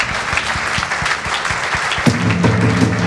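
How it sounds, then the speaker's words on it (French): Audience at an award ceremony for green innovation honours applauding four nominees, a dense, loud, sustained burst of clapping with a voice rising over it toward the end. "On les applaudit bien fort tous les quatre."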